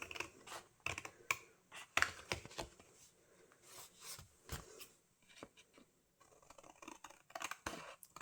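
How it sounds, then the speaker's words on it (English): Scissors snip and trim along the edge of a Valentine's Day paper card, with close, crisp cuts and scraping blade sounds coming in irregular bursts, near and alone with no talk. "just come in with my scissors and just trim along the edge there."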